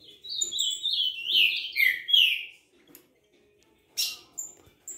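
A female canary (canário da terra) in a cage gives a rapid series of high, close chirps and short trills, then pauses before a few more brief calls, with no other sound around them.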